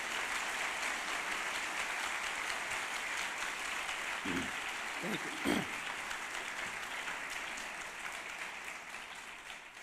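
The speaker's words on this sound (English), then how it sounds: "So please give a warm round of applause for our students." A seated audience at a university event on a Persian language program gives a steady, moderate round of applause for students, a broad continuous patter filling the hall, with a brief voice saying thanks partway through.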